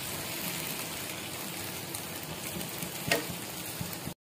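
Okra fries in hot oil, a steady soft sizzle with fine crackling and a brief louder spatter near the end before it cuts to silence.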